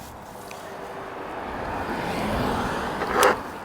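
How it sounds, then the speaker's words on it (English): A car approaches and swells past on a road, building slowly to a brief loud peak near the end, with wind rumble from a moving electric bike underneath. "Oh, comes a car."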